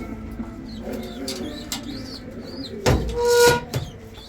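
A crested silver pigeon coos inside a coop, its soft repeated calls close by over a busy background, with a brief loud whoosh or flutter near the end.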